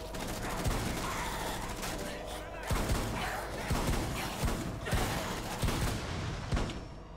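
Gunfire in Rainbow Six Siege's Outbreak zombie mode, with repeated heavy shots in quick bursts and booming impacts, loud and close, over steady game noise and a voice talking.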